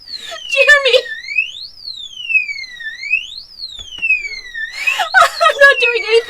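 A gun safe's electronic alarm wails in rising and falling sweeps, loud and close, while people talk over it at the start and end.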